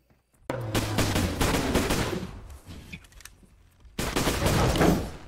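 A flare gun fires twice in the Bigfoot hunting game, each shot a sharp, loud burst with a hissing tail, the second about three and a half seconds after the first.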